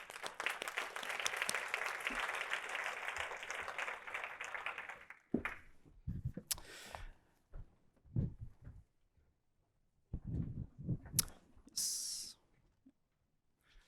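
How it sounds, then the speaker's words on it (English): A small conference audience claps for a panel coming on stage at a session on nature and human rights. The applause is dense for about five seconds, then gives way to scattered taps and faint room noise. "small applause for the panel"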